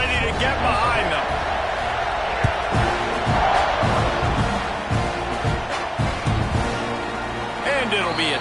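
A football stadium crowd rumbles and roars just before kickoff, a broad, constant wash of voices heard under a commentator talking throughout.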